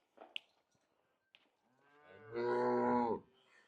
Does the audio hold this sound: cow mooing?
yes